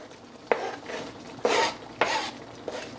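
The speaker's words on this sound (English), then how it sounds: "So now I'm going to add my corn and okra." Corn and okra tumble into a pot for Jamaican-style steamed snapper, giving a few distinct clattering, scraping bursts against the pot with quieter rustling between, close up and with no talking.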